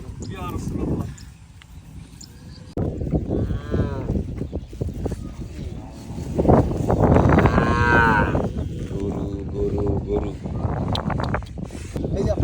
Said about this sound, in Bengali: এই আমার গরুটা পাওয়া গেছে